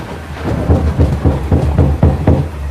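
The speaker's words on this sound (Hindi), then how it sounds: "फिर से दरवाजा खटखटाया गया" Repeated knocking on a door in a horror story: a rhythmic series of dull, heavy thuds about every quarter second, over a rumbling, rain-like, stormy background.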